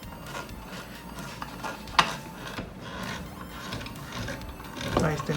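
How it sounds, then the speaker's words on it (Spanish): A small screw being driven into a KITT Knight Rider model car kit, with a soft repeated ratcheting, clicking turn sound close up and a louder click partway through. "Vamos a poner aquí el tornillo. Ahí entró, empezamos a apretar."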